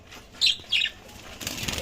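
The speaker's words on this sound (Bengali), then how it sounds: "বাজরিটার খাঁচায় কোকাটেলগুলো ঢুকানো হচ্ছে" Cockatiels flap their wings in two short, sharp bursts while being moved into a budgie cage, followed by rustling and cage handling noise.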